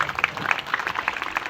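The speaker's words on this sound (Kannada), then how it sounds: "ಬರ್ಲಿ ಮಂಜೂರ ಚಪ್ಪಾಳೆ." Audience applause at a stage event honouring a local performer, a steady wash of many hands clapping at moderate level throughout, with no voices standing out.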